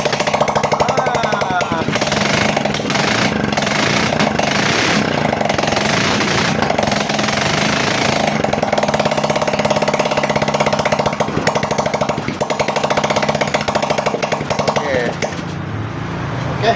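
A Yamaha Mio scooter with a CDI ignition fault runs up close in a loud, continuous, rattling idle that stays steady throughout, then drops off briefly near the end.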